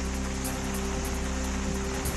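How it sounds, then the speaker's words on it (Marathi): Heavy rain pours down overnight in Ardhapur, Nanded, Maharashtra, as a dense, steady, loud hiss that fills the whole moment, with a faint low hum beneath and no voices. "नांदेडच्या अर्धापूरमध्ये रात्रीपासून जोरदार पाऊस."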